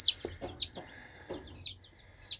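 Baby chick peeping in a homestead setting: a few short, high chirps spread through the clip, fairly close, with faint soft clucks and low rustling underneath and no talk.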